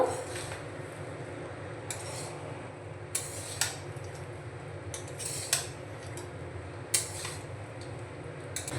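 Mango rice being mixed in a pan with fried peanuts and chopped coriander: a spoon clinks and scrapes against the pan at irregular intervals over a steady low background hum, with no talking.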